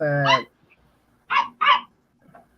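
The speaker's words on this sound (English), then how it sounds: "Excuse the dog." A dog barks a few times in a home, two or three sharp close barks, with a voice briefly heard before them.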